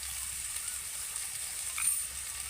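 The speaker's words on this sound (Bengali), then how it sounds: "এবার আমি যে বিনস আর গাজরটা কেটে রেখেছিলাম তেলের মধ্যে দিয়ে দেব" Chopped beans and carrots sizzle in hot oil in a pan, a steady, fairly quiet hiss of frying with a slight swell near the end, no talk.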